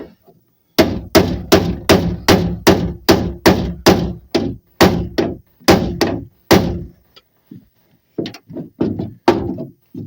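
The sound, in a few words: hammer and chisel striking on a Peugeot 306 door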